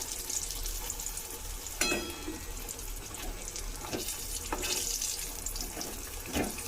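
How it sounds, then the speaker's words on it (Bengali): Rohu fish pieces, coated in masala, fry in a pan with a soft continuous sizzle and hiss, broken by a few sharper crackles and clatters as the pieces are turned. "এবার দেখুন মাছগুলো ওই পিঠটাও ভালো করে ভাজা ভাজা হয়ে গেছে।"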